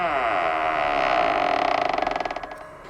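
An old door creaks open in one long, loud, drawn-out groan that breaks into a fast, ratcheting stutter near the end, with no other sounds.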